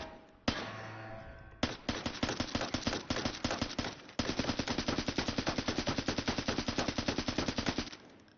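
Automatic video game gunfire from a held trigger, several rapid bursts of sharp repeated shots, with a short burst first and a long sustained stream from about four seconds to the end.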